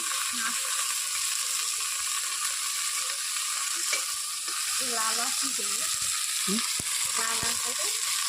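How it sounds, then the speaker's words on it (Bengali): Okra frying in oil in a village kitchen, a steady close sizzle throughout with occasional scraping and clicking of stirring in the pan. "ভিন্ডিগুলোকে তেল দিয়ে দিয়েছি প্রথমে, এইভাবে আমি ভেজে নিচ্ছি।"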